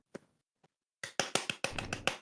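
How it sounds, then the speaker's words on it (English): A single faint tap, then a quick series of about seven sharp, crisp claps in close succession, loud and near with no talking. "Clap."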